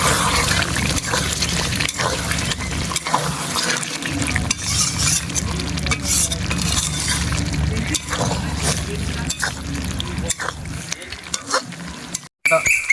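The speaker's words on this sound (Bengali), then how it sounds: "তো আমি এটা তুলে আবার একটু নাড়াচাড়া করবো" A spoon stirs chicken kanti masala in a pan, with continuous scraping, wet sizzling and clattering mixed over moderate frying noise, fairly close and busy throughout, ending with a brief pause and knocks.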